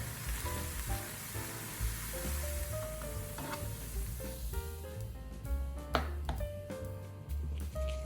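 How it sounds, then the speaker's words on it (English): Ground meat browning in a pan with pre-made sauce, a steady sizzle with the scrape and clatter of stirring on top, fairly close and moderate in level, with no talking. "Cook the ground meat until brown."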